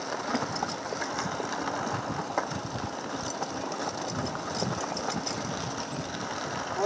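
A car engine runs steadily while driving on the way to a camp, heard as a continuous, moderately loud mechanical drone with road rumble and faint rattles and no voices.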